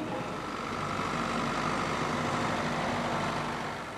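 Farm tractor engine in France around 1948, a steady low, even rumble running throughout at moderate level, with no voices.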